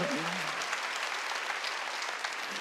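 A church congregation clapping hands together, a loud, dense wash of applause that fills the space continuously, with a brief trace of a voice at the very start.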